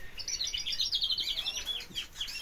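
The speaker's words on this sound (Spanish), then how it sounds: "qué pajarillo ese" A small songbird chirps in rapid, bright bursts of twittering notes, close and fairly clear over a faint background hum, with a few brief pauses between phrases.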